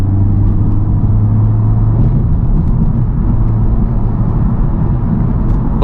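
Inside a Honda Civic Type R driving in sport mode, the engine gives a loud, steady low drone and rumble with a constant hum, close by and alone without talk.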